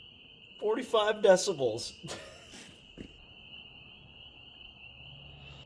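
Spring peepers calling at night form a steady high-pitched chorus that runs through the whole stretch, faint in the background, while someone talks briefly over it early on.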